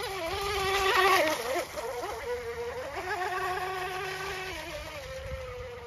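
A radio-controlled model boat with a speed 400 electric motor runs on a pond, giving off a thin, high whine that rises and falls as it speeds up and turns. It is steady and moderately distant, with no voices.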